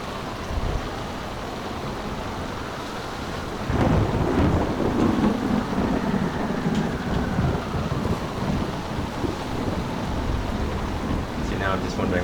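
A thunderstorm with heavy rain in the video game Tempest: a steady, dense roar of rainfall with a deep thunder rumble swelling in after a few seconds and rolling on loudly.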